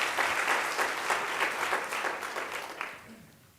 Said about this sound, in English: let's get a little applause in here